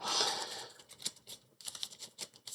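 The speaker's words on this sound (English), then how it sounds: "We have all the time in the world to shuffle here." A deck of cards for the Earthborne Rangers card game being shuffled by hand: quick bursts of crisp, clicking riffles in separate runs with short pauses, close and fairly quiet.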